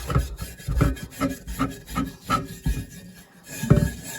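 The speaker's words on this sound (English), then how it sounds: "And do a lot of scrubbing" A thrift-store cast iron pan is scrubbed in quick, rhythmic back-and-forth strokes, close and raspy, about two to three strokes per second with no talk.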